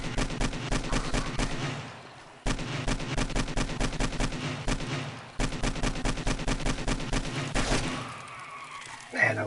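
AK rifle firing in 7 Days to Die during a zombie horde night, long rapid automatic bursts, loud and close, split by brief pauses, with a voice speaking over the shooting.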